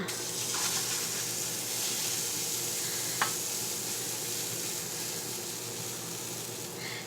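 Chaffle batter lands in a hot waffle maker with a steady, close sizzle and hiss throughout, a brief sharp tap near the middle, with no talking.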